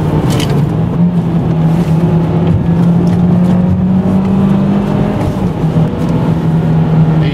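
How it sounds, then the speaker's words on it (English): A car driven hard through a corner at around 75 mph during a camber test, heard as a loud, steady, close engine drone with a sustained hum and no clear tire squeal or voices. "taking this corner at 75"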